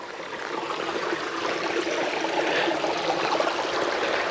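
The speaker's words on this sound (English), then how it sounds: "Several little stream crossings" A small stream flows over a hiking trail crossing in a forest while backpacking, giving a steady, close rush and trickle of water that holds evenly throughout with no voices.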